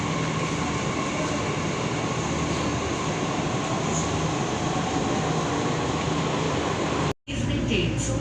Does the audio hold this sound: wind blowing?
no